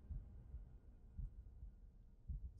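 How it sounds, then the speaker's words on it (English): A heartbeat sound effect in the video game The Room throbs low and steady, about three muffled double thumps, quiet and alone. "Stop it with the heartbeat!"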